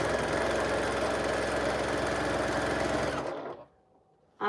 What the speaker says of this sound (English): You are sewing this morning.